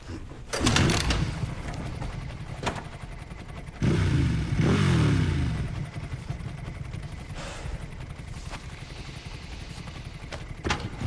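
A motorcycle engine in the video game Resident Evil Requiem revs in two loud bursts early on, followed by a steady lower drone with clattering in the background.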